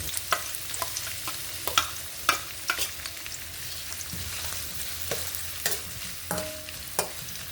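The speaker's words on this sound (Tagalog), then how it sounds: "So igigisa lang natin yan mga idol sa kamatis tsaka sa bawang" Onion, garlic and tomato sautéing in a pan, a steady sizzle broken by regular scrapes and knocks of a spatula stirring, close and clear with no voices.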